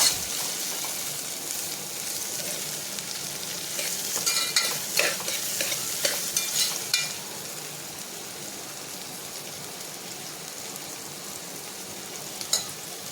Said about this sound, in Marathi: चला आपण आता इथे कांदा परतून घेऊयात.